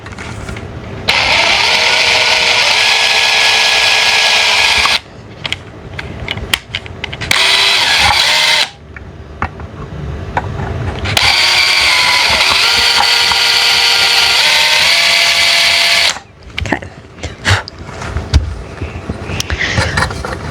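Power drill boring into the thin wall of a 20-year-old camper, running in long loud bursts of several seconds with short gaps and clunks of handling between them.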